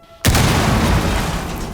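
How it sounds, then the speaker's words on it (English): A Vulcan deployable shield in Rainbow Six Siege is blown apart by a frag grenade, giving one loud, sudden explosive boom that hits at once and then rolls on as a dense, sustained rumble without fading much. "the Vulcan shield is still a deployable shield at heart, meaning it can be destroyed, and the explosion triggered by a frag grenade"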